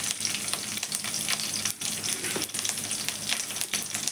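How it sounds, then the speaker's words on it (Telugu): Green chillies and onion sizzle in a pan with ginger and curry leaves. A close, lively crackle of frying is punctuated by scraping stir strokes, with no talk. "ఇప్పుడు కొంచెం ఇలాగా వేగాలండి"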